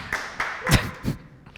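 A few scattered claps from a single person at a conference talk, four or five sharp, uneven hand slaps spaced irregularly, close and fairly quiet in a room.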